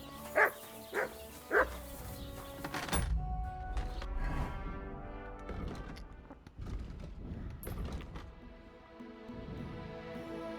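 Dog barking in the medieval video game Kingdom Come: Deliverance II, a few sharp barks in the opening seconds followed by a busy mix of game sounds and ambience.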